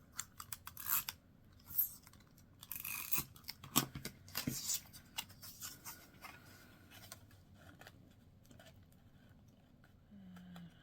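Scissors snip and slice paper for book folding, a series of close, crisp cuts clustered early that thin out toward the end, in a quiet room without talking.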